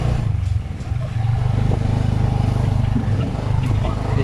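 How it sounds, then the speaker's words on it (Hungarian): Motorbikes and cars stream through busy Phnom Penh traffic, heard from a moving tuk tuk, a steady close engine rumble with clatter and passing revs throughout. "láthatjátok, hogy hogyan mennek a motorok keresztbe kasba."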